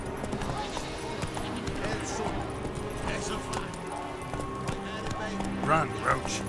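Horse hooves clip-clop at a run in The Witcher 3: Wild Hunt, a steady galloping rhythm heard close under game voices and shouting, with a faint whinny.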